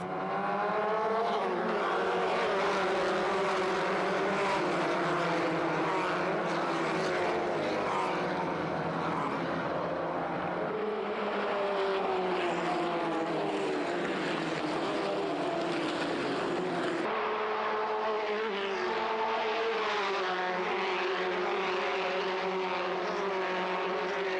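Race cars starting a race on a dry track, a dense, continuous roar of several engines pitching up and down together, loud and sustained throughout with no talking.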